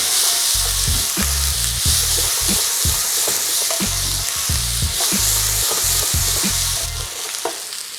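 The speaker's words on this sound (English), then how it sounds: "Just gonna give that a stir fry for about 2 minutes" Diced onions stir-fried in a hot pan for pork fried rice, with a steady loud sizzle broken by repeated scraping stirs of a utensil through the whole stretch, no voices.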